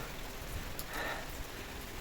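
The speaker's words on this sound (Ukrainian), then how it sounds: "Тут іде дощ, гарний дощ пішов." Steady wind-driven rain hisses continuously onto a wall and awning, a dense wash of falling drops with no voices.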